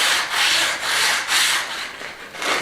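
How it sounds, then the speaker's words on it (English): Reclaimed terracotta floor tiles being sanded by hand in an old stone farmhouse hayloft, a close, rhythmic back-and-forth rasp of about five strokes, with no voices. "give them a good sand down now"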